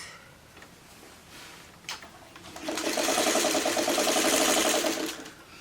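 Sewing machine runs a seam attaching end squares to a four-patch quilt block, a quick steady mechanical purr starting after soft handling noises and lasting about three seconds.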